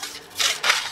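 A fine-toothed Sizona saw cutting through balsa wood held in a vise, producing two short, light rasping strokes up close, with nobody talking.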